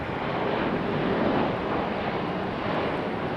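An airliner departing Raleigh-Durham International Airport sends a loud, broad, steady jet roar across the whole stretch, heard from nearby without any voices.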